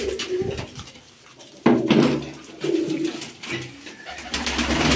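Uzbek tumbler pigeons coo repeatedly at close range during an evening feeding of mixed grain, their soft rolling calls overlapping in uneven bursts with a few louder onsets.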